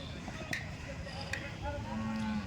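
A large dairy cow at a cattle market gives a drawn-out moo near the end, after faint clicks and background market murmur with distant voices.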